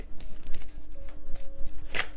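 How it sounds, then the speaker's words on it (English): Tarot cards are shuffled by hand, close-up, with a quick series of soft riffling slaps and flicks in an uneven rhythm lasting a couple of seconds. "While I was shuffling"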